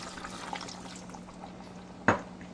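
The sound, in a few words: water poured into chicken curry pot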